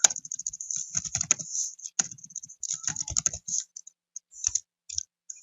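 Rapid typing on a computer keyboard, close and clear, with bursts of clicking keystrokes separated by short pauses and no voice over it.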